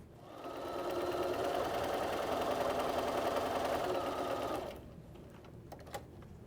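A sewing machine stitches light aqua fabric strips to a center piece with a quarter-inch seam for a log cabin quilt block. It hums in one steady close burst of about four seconds, then stops, leaving quiet handling sounds.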